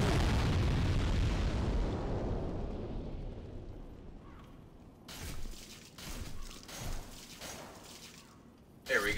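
Explosions from thrown bombs in Demon's Souls on PS3 online, a loud broad blast decaying over several seconds, followed by a few sharper bursts and thuds, with a final hit at the end.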